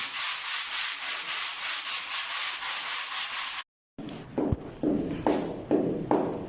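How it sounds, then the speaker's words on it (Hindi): Sandpaper rubbing old cement off a wall while preparing the surface before house painting, a steady rasping scrape that runs on, pauses briefly, then returns as separate louder strokes close by. "पुराना सीमेंट उतार रहे हैं ताकि ग्राउंड तैयार हो सके। दोनों चीज़ें इस्तेमाल कर रहे हैं, रेगमाल भी और मैला।"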